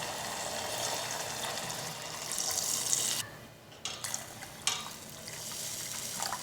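Water pours into a pot of sautéed green pigeon peas, a close, steady rushing splash that stops abruptly and is followed by a few light clatters and drips.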